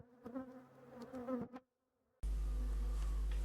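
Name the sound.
honey bees buzzing at an opened beehive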